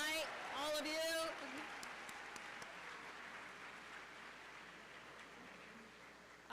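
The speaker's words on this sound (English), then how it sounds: "Let's give everybody one more final round of applause." Audience applauding at the We The People national finals awards ceremony, a broad steady round of clapping that follows a brief spoken voice and continues evenly to the end.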